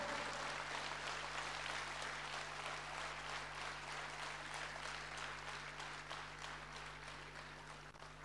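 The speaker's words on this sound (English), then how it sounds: "Ladies and gentlemen, please give a huge round of applause to the golden girl, Malati Krishnamurthy Hola." An audience at a school annual event gives sustained applause, a dense, even clatter of clapping over a steady low electrical hum from the hall's sound system, easing slightly toward the end.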